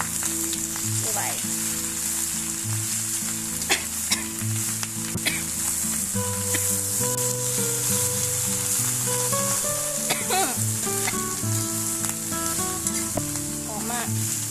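Vegetables and meat stir-frying in a pan, a loud continuous sizzle with scraping and clinking of a utensil stirring throughout, close up and steady with no talking.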